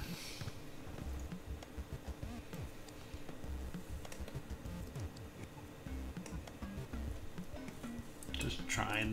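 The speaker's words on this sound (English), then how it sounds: "Trying to type on mobile." Fingers tap out text on a mobile phone in a dense, steady run of light clicks lasting several seconds, with a faint, muffled background.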